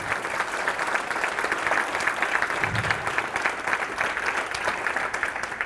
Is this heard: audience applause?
yes